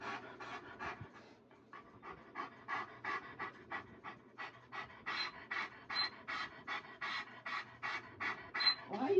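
A nearly nine-year-old dog pants heavily and close up, with a steady run of quick rhythmic breaths that grow louder toward the end, over a faint low hum.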